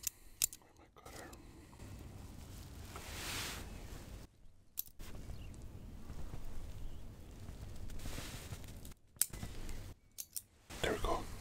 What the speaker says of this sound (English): It's a Cuban cigar. Let me cut it.